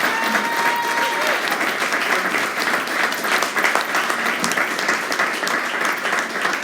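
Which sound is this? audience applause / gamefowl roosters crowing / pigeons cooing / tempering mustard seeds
audience applause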